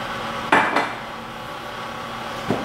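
An electric milk frother runs and clatters, giving two sharp clacks close together early on and another faint clack later, over a steady low whir.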